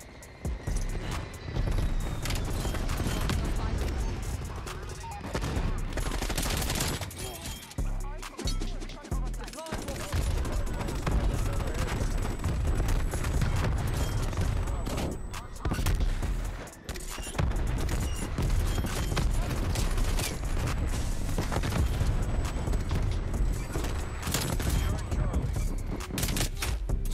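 Streetsweeper shotgun fired in a first-person shooter game, with bursts of gunfire, mechanical clicks and reload clatter spread through a long, busy stretch of game action, a player's voice occasionally talking over it.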